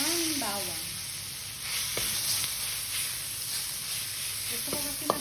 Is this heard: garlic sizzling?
yes